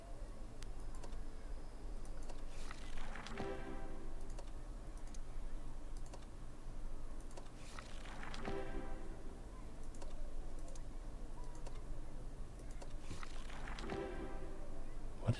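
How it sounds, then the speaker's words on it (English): A page-rifling sound effect from a tank video game, where rapid papery flutters come in three short bursts several seconds apart over a quiet background. "It's rifling through pages."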